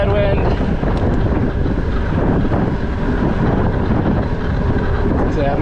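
Steady, loud headwind buffeting roars across the microphone of a Trek Marlin+ 8 electric mountain bike riding at around 19 mph, a continuous broadband rush with no break.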